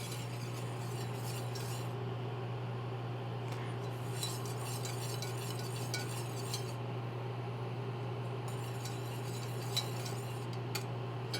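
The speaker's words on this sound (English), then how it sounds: "You want to make sure that you are continuing to stir it so that it doesn't burn to the bottom" Hot milk stirred in a pot, with a spoon giving light, intermittent metallic clinks and scrapes at close range over a steady low hum.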